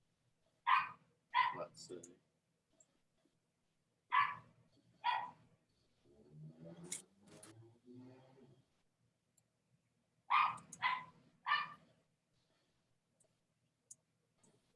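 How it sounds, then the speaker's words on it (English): A dog barks in short bursts somewhere in the background during a virtual meeting, with stretches of quiet between them and a voice speaking briefly. "We're still hearing a dog."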